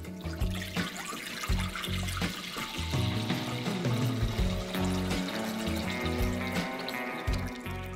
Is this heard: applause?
no